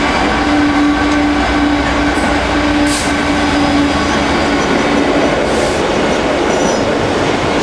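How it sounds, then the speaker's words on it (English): A freight train of box wagons rumbles past close by, a loud steady roar of wagons with clanking wheels and a faint squealing tone. "So we've got another freight train coming towards us"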